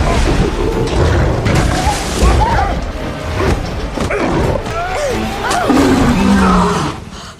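A lion roars several times in deep, rasping bursts, loud and close, separated by short gaps and snarls.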